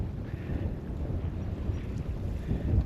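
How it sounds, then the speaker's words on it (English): Steady wind gusting across the microphone aboard a sailboat entering Southwest Harbor on Mount Desert Island, Maine, a continuous low rushing roar with faint water sounds and no talking. "the wind picked up as we got here into the harbor"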